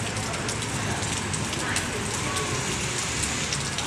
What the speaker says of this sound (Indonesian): Seharian betul ya teman-teman hujan di Palembang ya, dari pagi sampai sore ini.